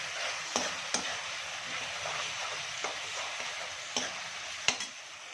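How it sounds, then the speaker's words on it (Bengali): A spoon stirs a chilli chicken mixture in a pan, producing a steady soft sizzle with a few sharp clinks of utensil against the pan, fairly quiet and with no talking. "ওর মধ্যে এবার ভালো করে এটা মিক্স করে নেব"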